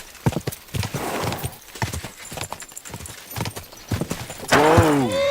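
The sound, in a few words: horse galloping and neighing in the video game Kingdom Come: Deliverance II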